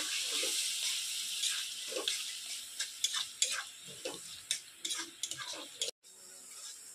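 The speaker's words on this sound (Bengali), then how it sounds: "মশলাটা ভালো করে এবার ভেজে নেব" Masala with a spoonful of turmeric frying and being stirred in a pan, a steady faint sizzle with scattered scraping strokes and light clinks, one brief cut near the end.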